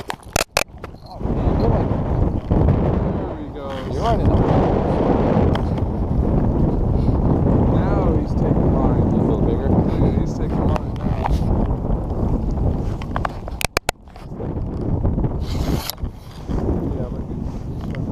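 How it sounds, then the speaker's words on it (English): Strong wind buffeting the microphone on a reservoir during a catfishing trip, a loud roaring rumble that gusts and drops, with brief handling knocks and a person talking. "Guys, it's crazy windy out here."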